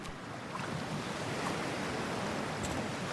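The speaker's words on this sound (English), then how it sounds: "freezing-ass water, here I come" Wading into toxic cold water in the video game Cyberpunk 2077, a steady broadband wash of sloshing, surf-like water noise held at an even level throughout.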